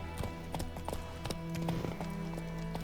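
Geralt's horse Roach gallops in The Witcher 3 on PS5, its hooves pounding out a steady, close clip-clop rhythm over soft game music.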